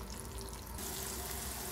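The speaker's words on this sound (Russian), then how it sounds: "Теперь обжарим нашу курочку на масле." Steady crackling sizzle of chicken frying in hot oil, continuous and fairly close, with a slight shift in tone partway through.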